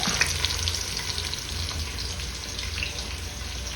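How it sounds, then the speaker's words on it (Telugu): Vegetables for a soya and pea pulao simmering in a pan of water, a steady hiss and bubbling sizzle with faint stirring clinks, close and continuous. "ఒక 2-3 నిమిషాలు ఇవి ఉడకనిద్దాం ఇట్లా వాటర్లో"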